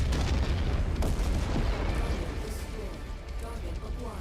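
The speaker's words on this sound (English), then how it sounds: "I expected an even more violent explosion than that." A video-game explosion erupts as a loud, rumbling roar of blast noise with crackling debris, sustained for a few seconds close up.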